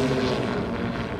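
A Pivotal electric vertical-takeoff flying craft levels into cruise mode, giving a brief steady propeller drone and airy whoosh, fairly loud and continuous, with no voices.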